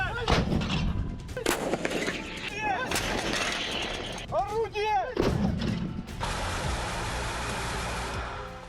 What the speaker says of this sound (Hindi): रूसी तोपों की ऐसी गर्जना सुनाई दे रही है जिससे पूरा इलाका थर्रा गया